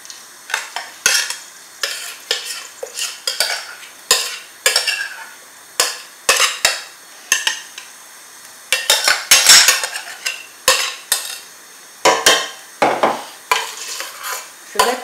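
Crushed condiment mixture hitting hot oil in a cooking pot, heard as a run of sharp bursts of sizzling and stirring clatter that come and go in pulses, close and fairly loud, with no talking.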